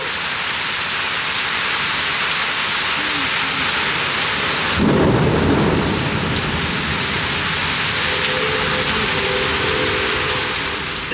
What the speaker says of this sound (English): thunderstorming today. Yeah. It's raining.